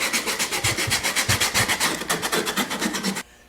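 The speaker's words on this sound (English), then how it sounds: "Now we're going to sand all the rough edges." Rough edges of wooden pine strips for a DIY wine rack are sanded with steady, rhythmic back-and-forth rasping strokes, loud and close, ending abruptly.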